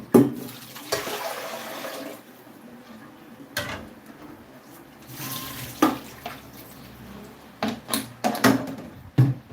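Water poured from a tap or container onto grated coconut in a strainer for squeezing out coconut milk, a close splashing trickle in brief bursts between handling clatter, with no talk.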